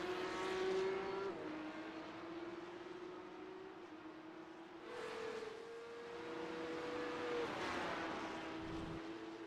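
Race car lapping the Imola circuit in a racing video game, its engine a steady droning tone that rises and drops through gear shifts across the lap, with a continuous rushing wash and no voices over it.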